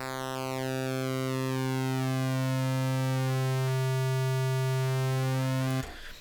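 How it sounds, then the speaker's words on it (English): An oscillator on the Arturia Modular-V software modular synthesizer sounds a loud, steady buzzy tone rich in harmonics, held for several seconds as its upper overtones shift and sweep, then abruptly cut off near the end. "And then we start generating tone."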